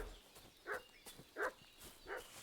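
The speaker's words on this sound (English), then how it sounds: "What's that dog making such a fuss about?" A dog in Kingdom Come: Deliverance 2 barking three times at a steady pace, moderately distant, over quiet outdoor ambience.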